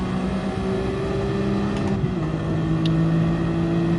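In the GT Sport racing game on PS4, a car engine hums steadily with a sustained droning pitch and a slight shift in tone partway through, loud and close, with no talk.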